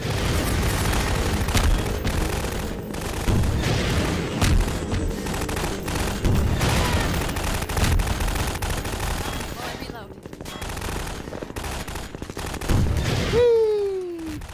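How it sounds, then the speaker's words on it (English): Gunfire and explosions from the video game Half-Life 2, dense and continuous with sharp repeated shots and booms throughout, a rising whoosh near the end, with speech partly underneath. "Who are we shooting at?"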